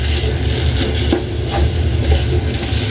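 Thick mung bean stew (monggo gulay) is being stirred in a pot, giving a steady close scraping and bubbling texture with a faint sizzle, running continuously without talk.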